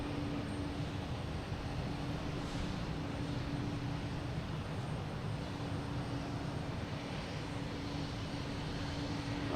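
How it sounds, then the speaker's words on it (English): An Air Canada airliner arriving from Toronto at Boston Logan Airport gives a steady, broad engine roar that holds evenly throughout with a faint whine, heard from a distance with no talking. "Next coming in is Air Canada, coming in from Toronto."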